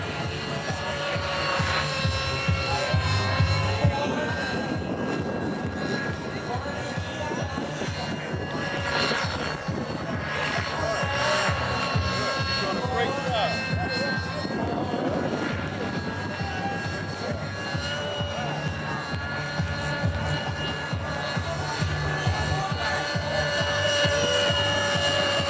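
A radio-controlled model helicopter flying an inverted hover, its rotor and engine giving a steady, fairly loud whine and buzz that holds throughout outdoors.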